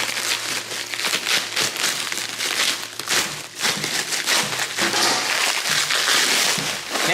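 Packaging around a 2JZ V-band turbo manifold for a 68/70 Precision turbo is cut open, giving steady close crinkling and crumpling of wrap material with scattered crackles, continuous and fairly loud, without speech.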